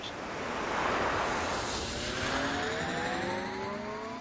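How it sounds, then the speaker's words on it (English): A steady roaring jet-engine rumble from an invisible spaceship taking off, a TV sound effect, swelling slightly and holding loud and continuous with a faint rising whine, no speech. "Listen, you can hear the jet motors."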